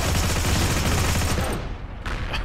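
Rapid burst fire from an M1/M2 carbine in the video game Heroes and Generals, a loud dense rattle of shots at close range that stops abruptly, followed by a couple of quieter trailing reports.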